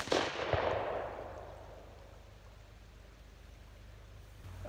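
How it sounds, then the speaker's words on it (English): A wheel lock pistol fires a 40-grain black powder charge outdoors, one loud sharp blast at the start followed by a long fading rumble and echo. "the wheel will spin and discharge the weapon"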